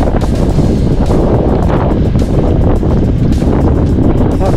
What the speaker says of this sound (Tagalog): Malakas na yung hangin, tapos paulan na.